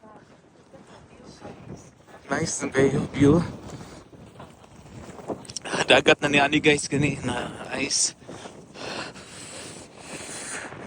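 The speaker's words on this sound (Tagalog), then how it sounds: "Kusog yung hangin." Strong seaside wind gusts batter the microphone at Anderson Hollow Lighthouse on Hopewell Hill, rising and falling in loud rumbling bursts while several people chat and exclaim close by.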